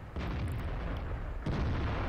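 Tank cannon fire from a long-range sniping gun in World of Tanks, heard as a dense booming roar with a second heavy blast about midway, loud and close with no talk.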